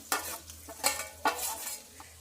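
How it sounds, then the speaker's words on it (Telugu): Onions sizzle quietly in hot oil while a utensil scrapes and stirs the pan in several distinct strokes, close by, with no voices. "ఆయిల్ అయితే బాగా వేడికింది మనం ఇప్పుడు ఆనియన్స్ అయితే వేసేసుకుంటున్నా"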